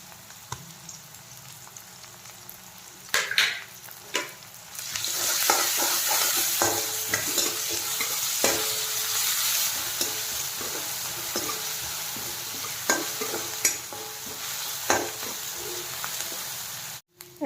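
Ginger garlic paste hits hot oil left over from frying fish for a fish tomato curry, breaking into a loud, steady sizzle with scraping stirs after a few quiet clinks at the start.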